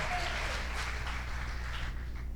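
Church congregation applauding during a worship service, broad continuous clapping from a large group that stays fairly faint and steady, with a low hum underneath and no clear speech.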